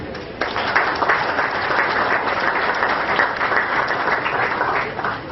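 Steady applause from a large crowd at a fibre-internet launch ceremony, dense clapping that starts abruptly and holds at an even, loud level throughout.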